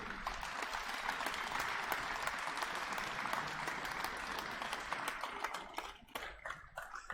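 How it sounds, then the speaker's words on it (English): A crowd at a podium ceremony claps steadily in a warm round of applause, dense at first and thinning out toward the end. "please a warm round of applause again for all the people who make this happen"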